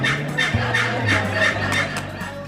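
Wild turkeys gobble in a steady rhythmic series, with repeated rattling calls recurring every half second or so over a loud, continuous low drone.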